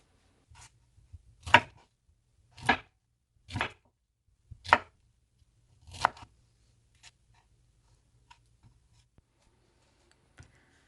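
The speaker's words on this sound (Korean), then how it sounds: "납작납작하게 썰어줍니다" A knife cuts a cored pineapple into flat slices on a board, landing six distinct, evenly spaced chops about a second apart, followed by a few faint taps in a quiet room.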